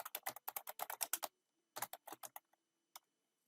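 Typing on a computer keyboard into a OneNote page: a quick, steady burst of close key clicks, a short pause, then a slower run of taps and two last isolated keystrokes, quiet and with no voices.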